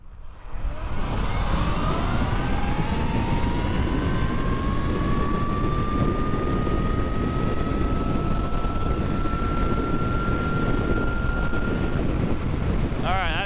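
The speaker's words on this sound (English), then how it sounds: "Now let's see some high-powered drag races between this torque bike and Reed's Talaria." High-powered Talaria and torque-modified Surron electric dirt bikes accelerate hard in a drag race, with a rising electric motor whine climbing steadily under heavy wind rush for a long, sustained run.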